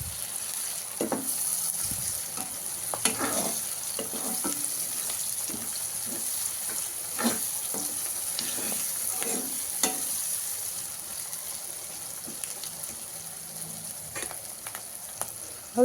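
Bajra rotla sizzling in a pan as water and buttermilk are added, with steady frying hiss and scattered crackles and stirring clicks throughout, close and moderately loud, with no talk.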